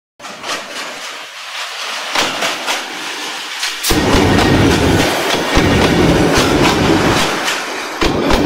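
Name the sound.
train crossing Tista railway bridge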